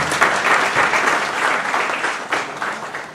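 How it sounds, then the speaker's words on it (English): An audience claps for a reverend introduced at a theological lecture series, a dense, steady wash of applause that runs throughout and swells briefly near the end, with no talk over it. "Can we please give him a hand of applause?"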